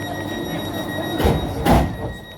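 Island Line Class 484 train on the run toward Ryde Pier Head, giving a steady rumbling rail drone with two louder swells of wheel and track noise near the end.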